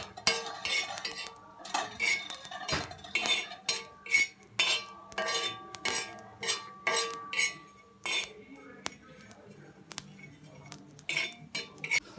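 A metal spoon scrapes and clinks against a pan while a bread omelette mixture is stirred, producing repeated sharp rhythmic strikes close by, with brief pauses between bursts and no talking.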